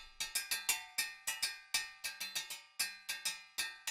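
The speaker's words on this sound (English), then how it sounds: "So the first thing I played in were these agogo bells" Agogo bells strike in a quick, syncopated rhythmic pattern, each bright metallic hit ringing briefly, played alone at moderate volume.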